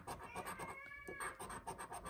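A house cat lets out a complaining meow in the middle of a scratching, rustling sound, close by, with no voices.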